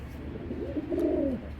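A Giribaz pigeon gives a single soft, rolling coo lasting about a second, close by, over a faint background hum.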